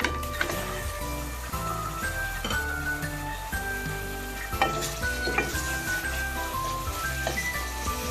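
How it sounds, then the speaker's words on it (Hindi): Half a kilo of chicken fries with ginger and garlic over a high flame for chicken masala. A loud, continuous sizzle runs under repeated stirring scrapes and light ticks, with no talking. "तो तेज आंच पे मैं तकरीबन 5 मिनट जिंजर गार्लिक के साथ भून लूंगी।"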